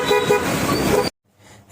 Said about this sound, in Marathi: आपल्या BMW हॉर्न बघा.